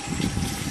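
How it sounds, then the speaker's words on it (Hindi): Water is poured steadily into a pot of browned chicken being cooked into a curry with broth, giving a continuous gushing rush without pause. "तो अभी इसमें हम पानी शामिल करेंगे।"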